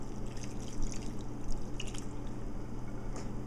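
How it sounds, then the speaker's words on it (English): Milk is poured gently into peanut butter loaf batter. Soft trickling and dripping sits over a faint steady background hum, with no voices. "And then we will add in the milk."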